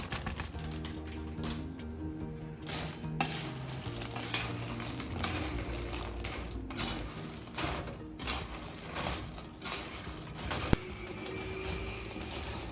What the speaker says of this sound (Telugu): కొంచెం నెయ్యి వేసి వేయించుకోండి, కొంచెం ముదురు ఎరుపు రంగు వచ్చే వరకు